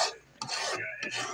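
A spoon scraping and rasping through thick ube halaya in a pot, a few rough stirring strokes close up, with no talking.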